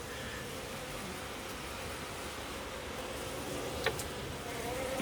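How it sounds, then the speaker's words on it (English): Bees hum at a backyard hive entrance in the sunshine, a steady buzzing drone that holds throughout, with one brief faint click near the end. "It was a nice sight to see the bees at the entrance in the sunshine."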